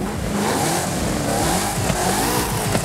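A 2.0 Alfa Romeo car engine in Forza Horizon 5 revs steadily with rising and falling pitch, loud and close, its growl dominating without any talking.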